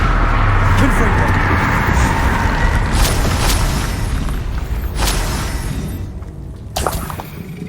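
Confringo fire spell blasts in Hogwarts Legacy, a few sharp booming bursts spaced over several seconds above a dense, steady game background.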